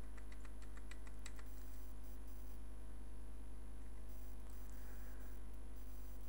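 Quick keystrokes on a computer keyboard during a Macromedia Flash 8 session, a burst of about a dozen crisp clicks in the first second and a half, then only steady electrical hum and faint background noise.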